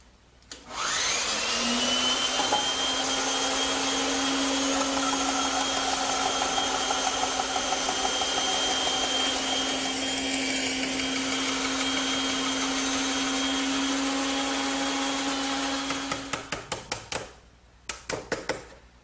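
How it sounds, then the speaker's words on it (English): A bandsaw cuts the shoulders of wooden tenons, with a loud, steady motor whine running for about fifteen seconds, then winding down as a series of sharp knocks and clatters follow close by. "when I made this shoulder cut on the bandsaw"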